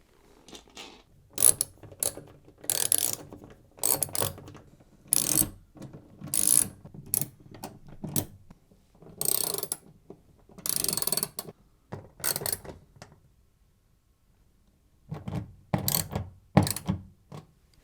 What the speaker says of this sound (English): Then you can refit the back panel before screwing the bolts back in.